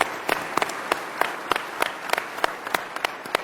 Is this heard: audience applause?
yes